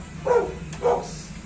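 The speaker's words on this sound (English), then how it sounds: "Now I can hear his bark." A large young dog indoors at a beach resort barks twice, two short, fairly loud woofs about half a second apart over a quiet room.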